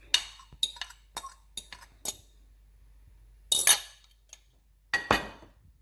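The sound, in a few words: mixing two eggs and pouring them onto potato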